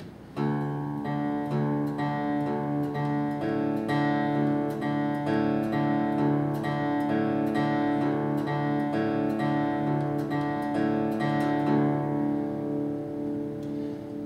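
Steady fingerpicked acoustic guitar, plucked notes ringing in an even repeating pattern, close and clear, fading out at the end.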